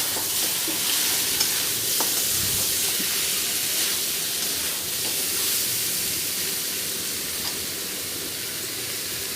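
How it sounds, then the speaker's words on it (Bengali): Marinated goat mutton frying in hot oil in a kadai while being stirred, a loud, steady close sizzle and hiss with scattered scraping stir sounds and no voices. "আস্তে আস্তে ভালো করে আমি নেড়ে চেড়ে ভেজে নেব মাংসটা"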